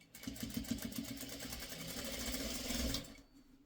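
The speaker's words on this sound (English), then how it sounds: "now I'm going to sew with this piece on top because this piece has a lot of bulk" A sewing machine stitches bulky quilt fabric pieces with a flat thread spool, its rapid mechanical chatter running steadily up close for about three seconds before stopping.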